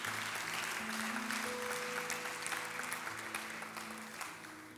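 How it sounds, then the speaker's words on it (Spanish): Church congregation clapping after a prayer, fairly quiet applause with a sustained organ or keyboard tone underneath, slowly fading toward the end. "¿Cómo ven si le damos un fuerte aplauso a todas las personas que hicieron esa oración?"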